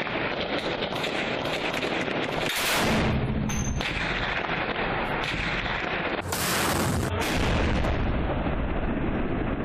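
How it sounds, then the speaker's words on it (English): Battle explosions and gunfire near Ras al-Ayn by Yabroud in Syria: continuous loud roaring, rumbling blasts and crackling fire throughout, with sharp bursts around three and seven seconds, no voices. "As soon as an explosion happens, the battle flares up"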